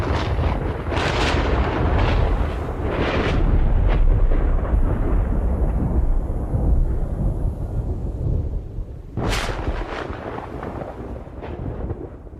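Deep thunder rumbles and rolls through a storm, with several heavy bursts early on and a sharp, loud crack near the end before a long fading rumble; no voices.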